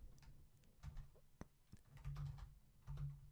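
Computer keyboard being typed on while entering numbers in JavaScript code, a few soft, close, irregular key taps over quiet background hum.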